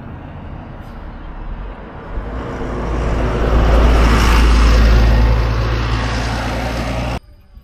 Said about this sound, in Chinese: 旅游车，旅游大巴车